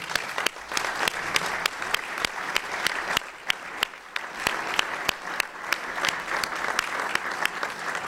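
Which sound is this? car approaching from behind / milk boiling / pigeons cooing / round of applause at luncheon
round of applause at luncheon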